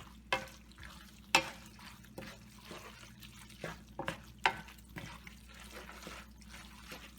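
Vegetarian pasta being stir-fried in a pan, with a soft wet sizzle broken by irregular sharp clinks and scrapes of a utensil against the pan.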